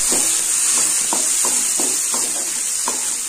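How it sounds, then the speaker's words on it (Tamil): Garlic and fenugreek seeds sautéing in hot oil for a sundakkai puli kuzhambu, a steady close sizzle and hiss with soft rhythmic stirring scrapes repeating roughly every half second. "பூண்டு ஒரு 10 செகண்ட் போல நல்லா வதக்கி விடுங்க"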